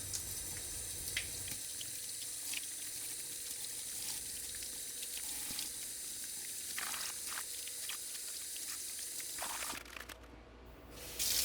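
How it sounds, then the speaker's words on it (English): Cold tap water runs steadily over a squirrel skull being cleaned in a sink, a constant close hiss with occasional splashes and faint clinks, briefly changing near the end. "I'm still running the cold water over the squirrel skull"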